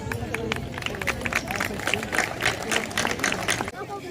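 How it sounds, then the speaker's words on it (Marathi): Crowd applause during a welcome ceremony at a Hindu gathering, brisk irregular clapping from many people close by, mixed with talk and crowd murmur throughout. "टाळ्या जोरात वाजलेल्या पाहिजे"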